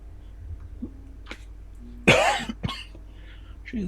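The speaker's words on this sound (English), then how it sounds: "Jesus, I've had this dry cough for days now." A man with a dry cough of several days gives one sharp, fairly loud cough followed by a smaller one, with quiet background hum and a few faint sounds around it.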